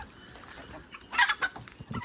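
Turkey poults in a poultry enclosure make short, close clucking chirps that cluster in the second half, over a quiet background with no speech.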